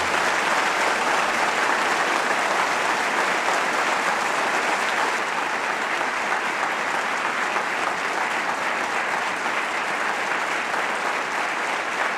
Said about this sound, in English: You sure are an encouraging group with all this applause.